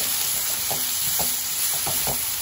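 Chopped onion sizzles steadily in a pan with turmeric, salt and ginger-garlic paste for an amaranth stem curry. A spatula scrapes and taps about five times over the constant close frying hiss, and no one speaks.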